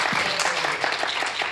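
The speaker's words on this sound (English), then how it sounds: "give a warm applause for Hossa" A group at a kung fu workshop applauds a participant, brisk continuous clapping with individual claps poking through, close and fairly loud, with no talk.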